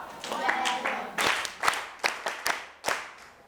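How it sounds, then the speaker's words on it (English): Students in a grammar classroom clap for a picture, starting with a few scattered claps and then settling into a short, uneven burst of sharp handclaps nearby, with voices murmuring in the room. "Clap for her."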